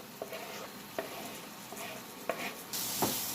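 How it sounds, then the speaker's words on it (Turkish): Eggplants mashed and stirred into flour toasted in melted butter in a pot, with a soft sizzle and a few sharp utensil knocks spaced about a second apart; the frying grows louder near the end, and no one speaks. "İyice patlıcanlarımızın ezilmesi gerekiyor."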